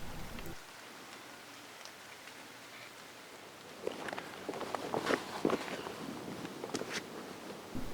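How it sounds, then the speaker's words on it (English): Light rain patters softly on surfaces in the morning, quiet and steady, with a few faint movements or steps rustling in the later half. "It rained the next morning, so I waited for it to die down"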